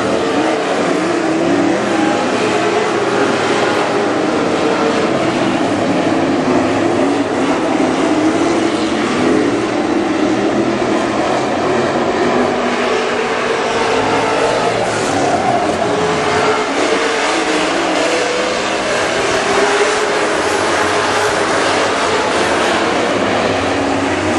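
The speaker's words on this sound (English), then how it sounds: "Johnson continuing a quest for victory lane here tonight in the Super Stocks." WISSOTA Super Stock race cars thunder around the Granite City Speedway oval in a continuous loud engine roar, with cars swelling and fading as they pass, without pause throughout.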